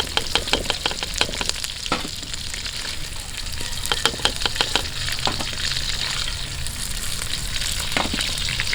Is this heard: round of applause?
no